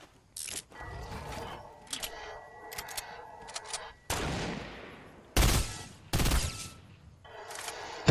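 Pistol shots in a shooter video game, a series of sharp, close cracks fired in irregular bursts with short gaps between them, some shots doubled in quick succession.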